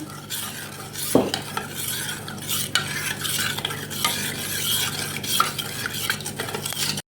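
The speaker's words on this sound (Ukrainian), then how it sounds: "розколочуємо гарненько." Continuous brisk whisking of eggs and water in a bowl for dyeing Easter eggs, a steady scraping swish with occasional clinks, close and fairly loud, no one speaking.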